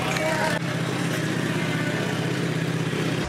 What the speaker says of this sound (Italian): tra chi ha messo la musica e chi ha iniziato a sgasare c'è tantissimo rumore